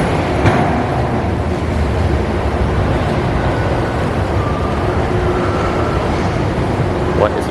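An airport transit train runs with a steady rumbling rail drone and faint whining tones, heard from inside the car at a constant, moderately loud level.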